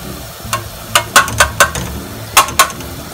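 Pumpkin puree mixed with tuna is stirred in a pot, a loud close series of soft scraping clicks and dull knocks in an irregular rhythm, with no speech.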